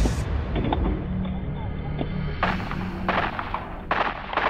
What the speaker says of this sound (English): But left with no options, Leo makes the call to fire back.